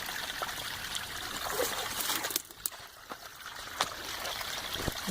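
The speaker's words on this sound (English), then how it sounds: "at least hear the water in there" A small stream trickles at the confluence of two woodland streams near a fallen log, a steady soft babble of running water with faint clicks and drips, fairly quiet and continuous with no voices.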